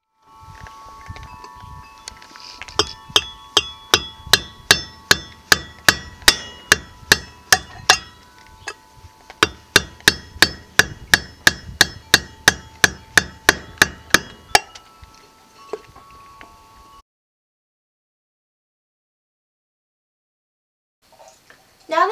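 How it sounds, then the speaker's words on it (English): A hammer drives a nail through the bottom of a tin can, a long run of sharp, ringing metallic taps at a steady rhythm, close and loud, ending before a silent stretch. "So just gently hammer through"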